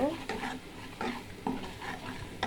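Ground spice powder fries in a pan under a steady low sizzle while a spatula scrapes and stirs in regular strokes, roughly every half second, close and clear.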